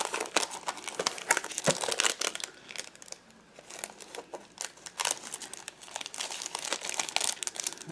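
Rapid, irregular crinkling and crackling of a plastic package of stickers being opened, close and sustained with sharp bursts and brief pauses, no talking.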